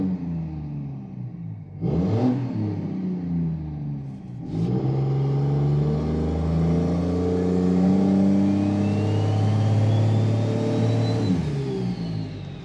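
Cummins diesel pickup with dual S400 compound turbos pulling away from a stop, its deep engine droning loudly and rising with turbo whine as it accelerates, with a short throttle blip and a brief lull early on.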